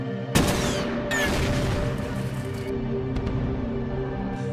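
Artillery fire in the war film Days of Glory, dense loud blasts and rumbling volleys in a continuous barrage.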